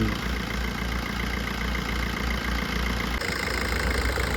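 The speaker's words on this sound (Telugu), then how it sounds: "ఇంజన్ బీటింగ్ ఇది" A car engine idles after servicing at a car service point, a steady, even low rumble and hum close by, with no voices.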